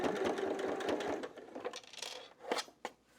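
A sewing machine stitches fabric for a custom-size Christmas tree skirt, with a quick, steady needle rhythm that slows and stops, followed by a few soft handling clicks.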